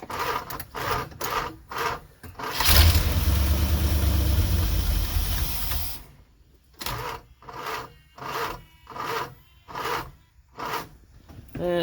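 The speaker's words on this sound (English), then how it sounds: "I think the starter's not super happy in it, but she does run." A Mopar 440 V8 in an old, long-abandoned motorhome cranks with a rhythmic, labouring starter, catches and runs roughly for a few seconds, then goes back to repeated slow cranking strokes.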